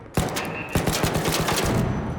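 Rapid bursts of gunfire in the video game ARC Raiders: a sharp initial shot, then a dense volley of quick repeated cracks rattling on steadily, loud and close.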